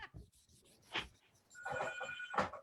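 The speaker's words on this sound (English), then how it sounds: "I actually have a landline, and that's what one sounds like." A landline telephone rings in a quiet room, giving a couple of bright electronic trill bursts with a short gap between them.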